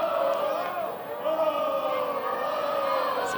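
Crowd noise at a U16 youth soccer match between LA Galaxy and San Jose Earthquakes at Avaya stadium, a steady, sustained chant of many voices rising and falling in unison throughout, fairly loud and close.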